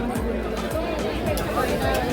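Crowd chatter at the Pandharpur fair, a dense, close babble of many voices blending into a steady hubbub.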